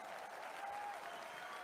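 Audience applause at Donald Trump's first speech after the assassination attempt, a dense steady wash of clapping from a large crowd filling the whole moment without pause.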